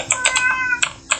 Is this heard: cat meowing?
yes